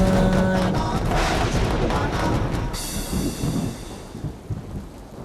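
Thunderstorm with heavy rain hissing steadily and deep rolling thunder rumbling throughout, loud and close, the downpour thinning slightly toward the end.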